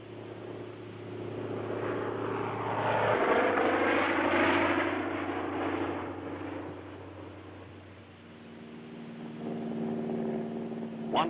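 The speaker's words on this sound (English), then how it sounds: "American Cub planes again proved invaluable in spotting enemy strong points." Wartime American Cub spotter planes droning overhead, a steady propeller engine hum that swells and fades as an aircraft passes, continuous and moderately loud with no talk.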